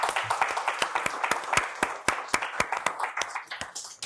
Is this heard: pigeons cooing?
no